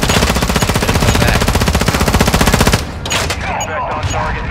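Rapid automatic gunfire from a video game firefight, a dense loud burst of shots that runs for several seconds before cutting off, leaving scattered quieter impacts and game noise.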